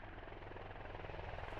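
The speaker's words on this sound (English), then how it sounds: "helicopter just landed behind you" Helicopter rotor and engine noise in the military shooter game Squad as the aircraft sets down, a steady, dense, close whir holding at even loudness with no talk.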